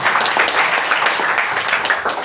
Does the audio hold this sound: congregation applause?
yes